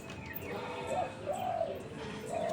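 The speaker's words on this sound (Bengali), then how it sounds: "আমার সবকটা পায়রা খাওয়া দাওয়া কমপ্লিট হয়ে গেছে ওরা একটু ওদের ইচ্ছা মতন এইবার ঘুরে বেড়াক" Pet pigeons coo softly in a few low, rolling calls against a steady background hum, with no talking.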